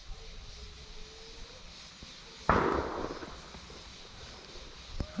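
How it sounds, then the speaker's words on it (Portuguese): A single gunshot sounds during a wild boar hunt outdoors. One loud, sharp report is followed by a rolling echo that fades over about a second, with faint ambient noise before and after. "Vamos escutar o tiro só agora."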